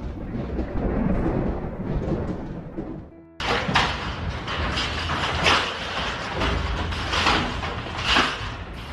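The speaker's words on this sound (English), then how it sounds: "The capital of the province was hit by a fierce storm, unleashing heavy rains, strong winds, and large hailstones." A severe thunderstorm in San Luis, Argentina, with heavy rain, strong winds and large hailstones, roars as a dense, loud wash of rain and wind, broken by a brief gap before a harsher, louder downpour with pounding bursts.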